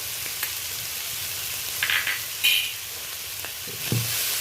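Garlic paste hits a pan of fried prawns for a kochu flower dish, giving a steady close sizzle with a couple of brief hissing bursts and a spatula scrape near the end, no talk.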